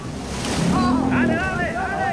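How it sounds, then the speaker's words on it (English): Waves crash over a small fishing boat in open water, a loud continuous rush of surging water and wind with a few faint cries mixed in. "A wave swamps our boat and submerges the engine."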